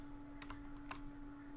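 Computer keyboard keys clack in a few quick, light taps over a steady hum while playing Minecraft SevTech, faint and close with no talking.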